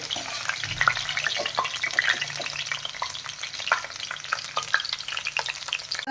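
Ivy gourd (tondli) fries in hot oil for masale bhat, giving a steady close crackling sizzle with dense spitting pops and occasional stirring clinks throughout.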